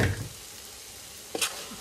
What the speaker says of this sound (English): eggplant start to saute